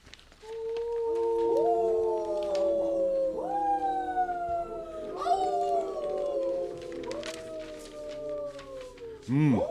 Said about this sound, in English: You hear them, Mr. Harker. The wolves?